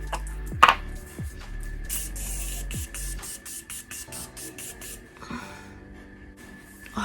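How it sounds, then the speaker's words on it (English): Morphe makeup setting spray misted onto a face in a rapid series of short, close hissing spritzes, preceded by a few soft handling sounds. "I'm gonna use the Morphe setting spray."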